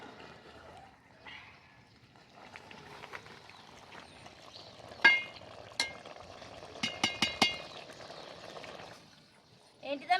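Old-style village chicken curry stirred in a pot with a ladle: a quiet, soft scrape and simmer, broken in the second half by several sharp metallic clinks against the pot, with faint voices nearby.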